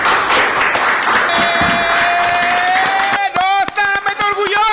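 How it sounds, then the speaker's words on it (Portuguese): Applause from a crowd at a political broadcast event in Aruba, a dense clapping wash heard alongside a voice that becomes prominent, with a sustained tone running through the sound. "Aplauso!"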